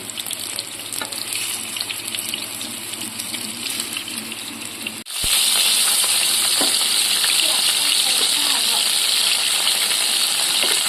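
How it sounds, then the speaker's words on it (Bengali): Pieces of catla fish fry in hot oil for a curry with cashews, a steady broad sizzle and crackle that jumps louder about halfway through and then holds, with faint clinks but no talk. "এই দেখেছেন আমাদের মাছ ভাজা প্রায় কমপ্লিট হয়ে এসছে"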